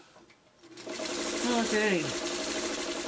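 A sewing machine stitches quilt triangles, starting up after a moment and running in a steady whirring hum, with a brief spoken word at the start.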